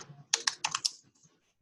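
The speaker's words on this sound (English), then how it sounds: "Why am I typing this?" Quick run of computer keyboard keystrokes during a coding session, about six crisp close taps in a short burst, then a couple of faint presses trailing off, with no talk.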